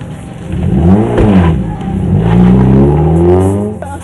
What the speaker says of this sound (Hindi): हत्या के बाद हत्यारे उसी होंडा अकॉर्ड कार में सवार